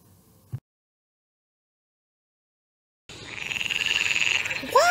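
A frog croaks in a pond, a steady rhythmic chorus rising after a long stretch of silence and holding loud and close, ending in a brief chirping call.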